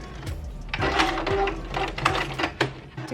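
A sewing machine stitches a puffed sleeve into a dress armhole, a close mechanical whir with rapid rhythmic clicks in short irregular runs.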